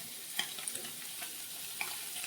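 Soybean chunks fry in oil in a wok, making a faint, steady sizzle with occasional soft stirring clicks and scrapes.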